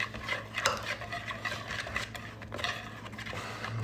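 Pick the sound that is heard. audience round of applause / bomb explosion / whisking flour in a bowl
whisking flour in a bowl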